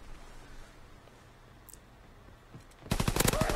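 Gold machine pistol firing in Call of Duty: WW2 multiplayer, a sudden loud burst of rapid shots near the end after a quiet stretch of faint background noise.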